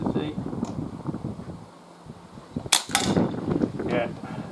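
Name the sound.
Webley MK6 air pistol shot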